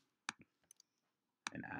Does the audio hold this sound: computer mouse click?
yes